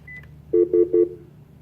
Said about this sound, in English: I can then go to any phone and hit the same park button